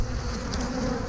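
Honeybees swarming around a hive, a dense, continuous buzzing drone close by with individual bees passing near, no voices.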